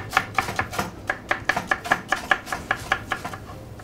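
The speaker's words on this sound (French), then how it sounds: "Nous allons commencer à émincer les poireaux." Leeks being sliced with a kitchen knife on a cutting board, a quick, even run of crisp chopping strikes, close and clear, with no voices.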